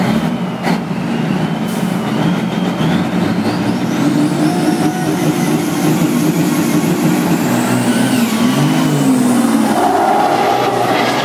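A truck engine revs and roars at close range, loud and continuous, with a rising and falling mechanical whine near the end, at a motorsport event at Notre-Dame-du-Nord.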